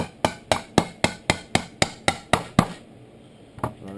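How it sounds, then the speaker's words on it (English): A hammer gently taps a seized part out of a Nova during disassembly: about ten evenly spaced, sharp metallic knocks close up, then a pause and one last softer tap. "a good old hammer here, and just gently tap"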